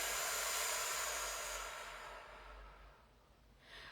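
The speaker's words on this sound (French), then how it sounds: "Et tu souffles." During a deep core abdominal exercise in a post-partum workout, a strong, close, breathy exhale hisses out and fades over about two seconds, followed by a short, softer breath at the end.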